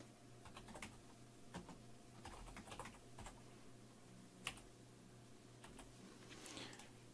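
Fingers type on a computer keyboard in steady, irregular bursts of faint clicking keystrokes, with one sharper key tap standing out partway through.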